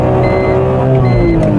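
A BMW Z4 M Coupe with roughly 330 horsepower drives along, its engine droning loud and steady from inside the cabin at a fairly constant pitch.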